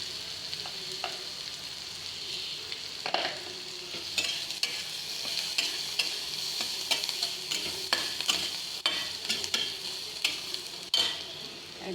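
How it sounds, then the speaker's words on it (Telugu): Spices and carrots fry in oil in a pan for carrot curry, with a continuous sizzle broken by frequent scraping and clinking stirring strokes, close and fairly loud, with no talking. "యాడ్ చేసుకున్న తర్వాత లైట్గా సిమ్లో పెట్టి వేయించుకుంటా"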